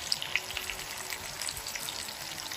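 Dried fish (daing) fries skin side down in hot oil, giving a steady close crackle with sharp pops scattered through it and no voices.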